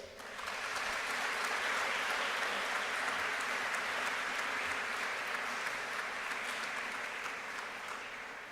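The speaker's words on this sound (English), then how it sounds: "Seniors, how about a round of applause for these folks showing up once again for you today?" Graduation ceremony crowd at Germantown applauding, a broad even wash of clapping from a large audience that sounds somewhat distant and holds steady throughout with no talking.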